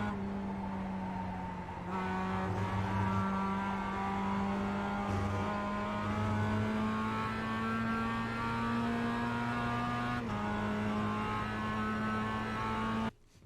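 Mazda MX-5 race car engine in the iRacing sim at Okayama, a steady loud whining drone with harmonics rising under acceleration, a brief gear-shift dip near two seconds and another around ten, running continuously with no talk.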